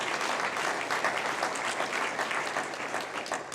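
Sustained applause from a large audience at a small business awards ceremony, steady and dense clapping throughout with no break.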